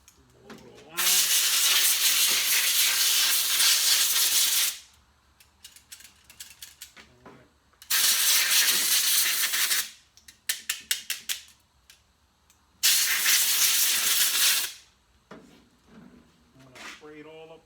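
Three loud bursts of compressed air hiss for several seconds each, blowing out parts of a 1966 Chevrolet El Camino, with clinks, handling noises and brief talk between them.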